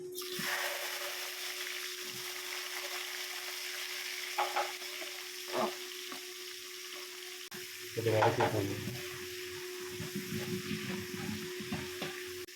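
Chopped shallots frying in oil with fenugreek and fennel for a fish curry, a steady sizzle throughout that grows louder and busier partway as the shallots hit the pan, with occasional stirring clinks.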